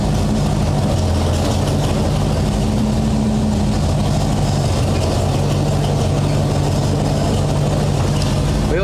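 A 1964 Ford F100 engine runs in gear after a transmission swap, a loud, steady low rumble close by that holds an even drone throughout, with a voice briefly speaking over it.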